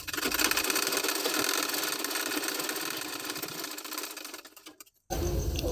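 A sewing machine stitches a folded hook strip during a tailoring job, running steadily and fairly close for about five seconds before a brief stop, then starting again.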